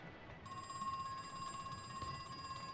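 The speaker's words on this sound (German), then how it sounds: "Oh, warte mal. Telefon klingelt." A telephone rings in the horror video game Crow Country, a steady electronic bell tone that starts abruptly and continues unbroken over low ambient game noise.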